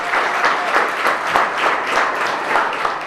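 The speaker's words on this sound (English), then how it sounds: "Let's give a warm round of applause for Mr. Dennis Wright." Audience applause at a book signing event, steady sustained clapping from a crowd filling the whole stretch at moderate loudness, with no talk over it.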